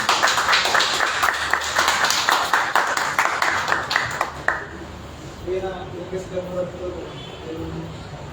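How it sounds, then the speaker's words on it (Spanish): An audience at a poetry book presentation in Lima gives a few seconds of steady, close applause. It thins out, and soft voices and murmuring follow. "fuertes aplausos para Juan Carlos Cabrera"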